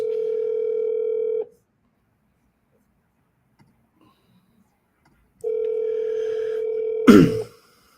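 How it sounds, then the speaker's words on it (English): Steady telephone dial tone heard twice during an outgoing call, two sustained tones of about a second and a half each separated by silence, the second cut off by a brief burst of noise. "I'm going to call them twice."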